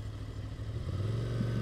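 A 2020 Ducati Scrambler Cafe Racer engine drones steadily, its pitch shifting as it slows under engine braking, close and continuous.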